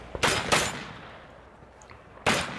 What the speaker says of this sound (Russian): Здесь стрельба в движении